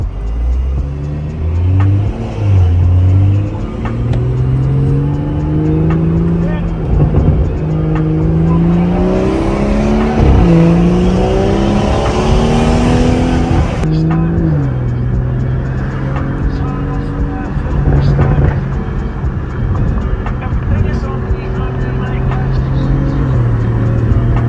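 A BMW M240i with a catless downpipe revs loudly and close, engine pitch climbing and falling through several rises before settling into a steady drone, with a voice heard faintly underneath.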